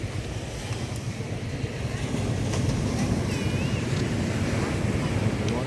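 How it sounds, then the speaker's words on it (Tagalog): Calm sea washing gently onto the shore, a steady low surf hiss with wind noise across the microphone that swells slightly midway and stays constant with no clear talk. "Kalmado yung dagat. Ang ganda."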